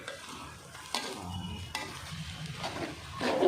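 Onions with salt and chili powder for egg curry are stirred in a pan, giving soft, steady sizzling with scraping strokes and occasional clicks of the utensil against the pan, fairly quiet and close, with no speech.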